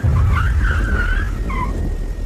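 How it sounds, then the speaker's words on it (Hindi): Car brakes screech in a sound effect, a long squealing whine that holds and wavers for over a second, then a shorter second squeal, over a loud low rumble of the vehicle throughout. "पर तभी मुझे अपने पीछे गाड़ी के ब्रेक की आवाज़ सुनाई पड़ी।"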